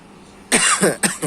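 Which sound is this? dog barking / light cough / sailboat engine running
light cough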